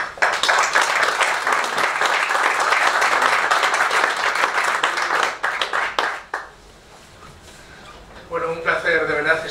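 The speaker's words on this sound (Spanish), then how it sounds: "así que desde mi punto de vista un buen aplauso para él." An audience gives loud, sustained applause for about six seconds before it fades out, and then a person starts speaking.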